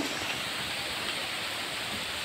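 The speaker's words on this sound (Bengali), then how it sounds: "হাওয়া হচ্ছে, বৃষ্টি, ভারী বৃষ্টি হচ্ছে।" A continuous roaring rush of heavy rain, steady and loud throughout, with a windy, broadband wash and no voices.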